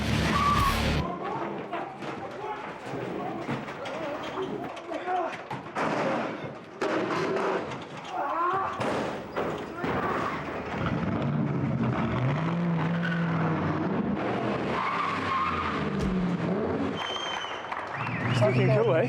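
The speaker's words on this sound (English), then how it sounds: "The actual car chase in the prison is with these modified cars" Modified cars in a film car chase staged in a prison, with engines roaring and tires skidding amid constant loud action, crashes and applause-like bursts, under music and voices throughout.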